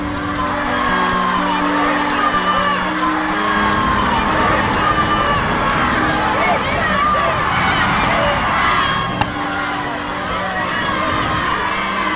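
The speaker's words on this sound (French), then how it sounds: "Devant les grilles du château se masse la foule des émeutiers" A dense crowd of rioters, mostly women, working women and laundresses, massed before the palace gates, a continuous loud roar of shouting and cheering voices with whoops, steady throughout.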